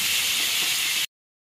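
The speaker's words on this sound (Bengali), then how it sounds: "যেমন বেরেস্তা হয়, পেঁয়াজের বেরেস্তা তেমন ভাজতে হবে।" Sliced onions sizzle steadily in hot oil as they fry toward a reddish-brown crisp for vegetable garlic noodles. A loud, even hiss runs for about a second, then cuts off abruptly into silence.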